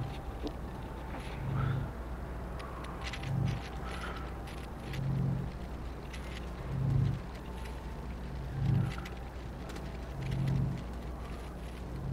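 A medium printer in the video game Astroneer works steadily, producing a rhythmic series of about six low mechanical pulses roughly every two seconds over a continuous hum, with no talking.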